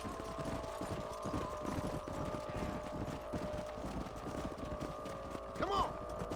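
Horse hooves clip-clop in a steady, rhythmic pattern in the video game Red Dead Redemption. A constant low ambient hum runs underneath, and a brief neigh-like sound comes near the end.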